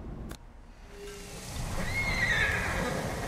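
A horse whinnies in the video game Ghost of Tsushima, a clear neigh rising out of a windy, rushing outdoor ambience that grows louder toward the end.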